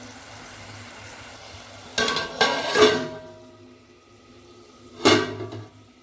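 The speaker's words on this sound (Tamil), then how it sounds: "மூடி போட்டு வச்சிடலாம்." A lid set onto a cooking pot of simmering bitter gourd kuzhambu, with a cluster of metallic clatters followed by a single sharper clank, over a quiet low background hum.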